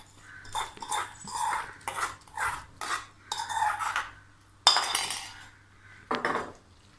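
A spoon stirs curd vermicelli in a bowl, scraping and clinking against the sides in a series of short, regular strokes, close and fairly loud, with brief pauses between them.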